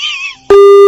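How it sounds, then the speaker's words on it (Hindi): A phone call cuts off and a steady electronic disconnect tone sounds loud and alone, following a short faint snatch of sound. "फोन काट दिया"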